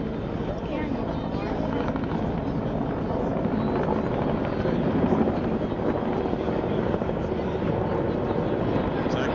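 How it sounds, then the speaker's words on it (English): Loud, constant rotor roar of a military helicopter carrying an underslung load, holding steady throughout with a dense low thrum and no break, at a Marine Corps demonstration at Joint Base McGuire-Dix-Lakehurst. "See the helicopter carrying something underneath it?"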